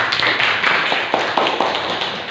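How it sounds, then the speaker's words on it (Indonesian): Classroom applause as students clap together, a close, fairly loud burst of quick overlapping claps with a few sharper individual hits standing out. "Tepuk tangan untuk kita semua."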